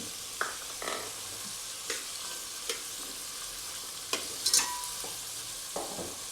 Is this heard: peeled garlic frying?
yes